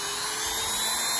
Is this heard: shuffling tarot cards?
no